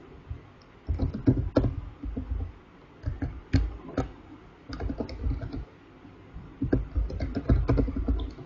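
Someone types on a computer keyboard in irregular bursts of close, crisp key clicks with short pauses between words, with no talking.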